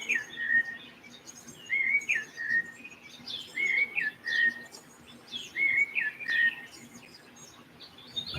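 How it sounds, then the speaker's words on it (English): A small bird chirps repeatedly while taking a large peanut, its short bright tweets and whistled notes arriving in quick bursts close by over a quiet outdoor background. "It's a little bird trying to take a giant peanut."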